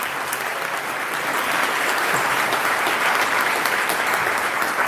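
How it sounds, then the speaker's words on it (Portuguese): A congregation at a Catholic service applauds vigorously, a loud, dense and sustained round of clapping that holds steady throughout. "Vamos aplaudir com muita força."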